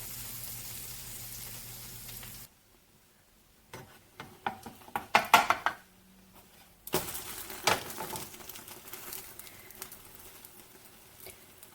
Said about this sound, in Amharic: እና ሌላውንም እንዲሁ አድርጌ ጠብሼ ጨርሳለሁ።